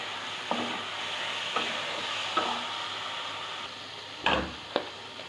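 Taro stolons stirred and fried with mustard paste in mustard oil, a steady close sizzle broken by a few sharp scraping knocks of the spoon against the pan.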